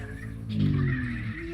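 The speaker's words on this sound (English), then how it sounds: "You can hear the engine dying down." A drift truck's engine in the video game CarX Drift Racing Online hums at a steady pitch, swells briefly, then settles lower and winds down, with a faint scraping hiss above it.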